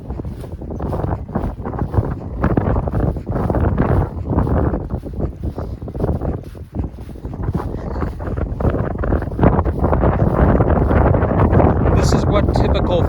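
Cold fall wind in Downsview Park buffets the microphone in loud, continuous gusts, rumbling and roaring throughout with brief lulls.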